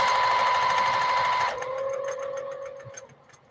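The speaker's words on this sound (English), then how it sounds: "I'm going to go and sew this on" A sewing machine stitches on a quilt with a fast, steady whirring hum that drops in pitch partway through, then slows into distinct rhythmic mechanical clatters as it winds down.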